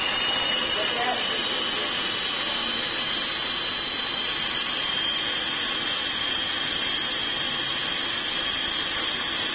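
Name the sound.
food processor whipping kale avocado salad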